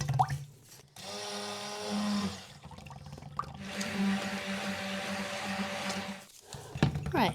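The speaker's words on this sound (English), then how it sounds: "Then we're going to use the stick blender to bring it to a light trace" Stick blender mixing tallow soap batter to just past emulsion, running in loud whirring bursts with short pauses between, close by and without speech.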